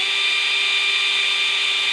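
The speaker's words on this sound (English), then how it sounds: "So I've got a drill bit with a point on it to start with, so let's get going with that" A power drill with a pointed bit bores into a plastic motorcycle fender on a BMW G650GS, giving a steady high-pitched motor whine that holds constant and close with no speech.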